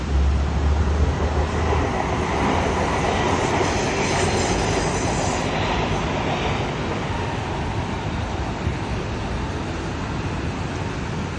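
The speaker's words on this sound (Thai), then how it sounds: "รถไฟที่วิ่งมานะครับ" A train rumbles past on the rails near Chatuchak, Bangkok, in the rain, with a steady roar, wheels clattering and faintly squealing throughout.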